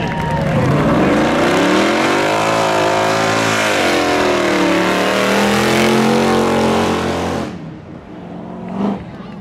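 Race cars roar at Seekonk Speedway spectator drags during a Labor Day thrill show, a loud, close engine drone that climbs and falls in pitch for several seconds before cutting off abruptly near the end.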